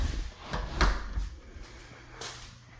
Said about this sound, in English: So let me get this door closed.